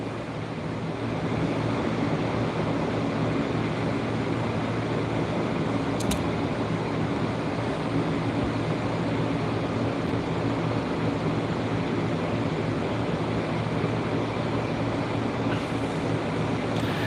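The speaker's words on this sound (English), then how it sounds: "sorry if you hear the AC in the background" An air conditioning unit hums steadily in the background, a constant, fairly loud broadband whoosh with a low rumble that continues unchanged throughout, with no talking.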